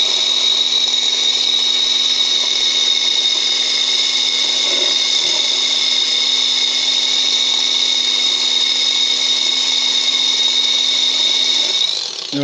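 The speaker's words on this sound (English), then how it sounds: "I'm gonna go ahead and mix it again. And this will mix all the sugar" A handheld electric mixer head whirring steadily in aloe lemonade to blend in sugar, a loud continuous high-pitched motor drone that winds down at the end.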